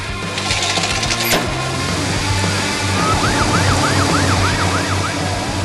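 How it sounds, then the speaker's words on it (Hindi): A police car siren wails loud and close, rising and falling in a repeated sweeping pattern over steady traffic rumble, with a brief high chirp near the start. "पुलिस की सायरन गूंजती है"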